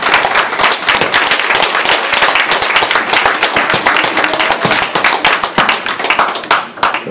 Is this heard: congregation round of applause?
yes